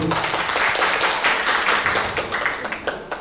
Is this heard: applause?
yes